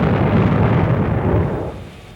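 Heavy rumbling blasts from bombs striking their target during an air raid, a dense, continuous low roar that stays loud before fading toward the end.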